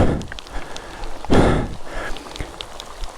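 Steady rain falling outdoors during off-road riding on a GSX-R motorcycle, a close broadband hiss with patter and a louder wash swelling midway, no talking.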